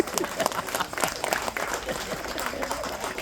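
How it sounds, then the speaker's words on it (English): Audience applause at a community gathering, a dense steady patter of many hands clapping with some crowd murmur mixed in, moderately loud and continuous throughout. "So Harish and Vanessa, give them a round of applause"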